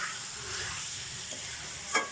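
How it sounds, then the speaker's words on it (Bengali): Chicken pieces fry and are stirred in a hot pan for a curry-leaf chicken curry, giving a steady close sizzle with a brief scrape of the spoon near the end. "তো এবার মাংসটা ভালো করে নাড়াচাড়া করতে হবে, একটু ভাজা ভাজা হবে"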